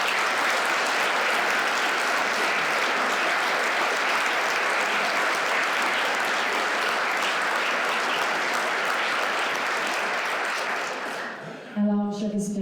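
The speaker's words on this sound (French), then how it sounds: "J'aimerais qu'on les applaudisse." An audience at a regional Lieutenant Governor's Medal ceremony in Quebec applauds the volunteers in a long, even, close wash of clapping that stops abruptly, followed by a brief voice.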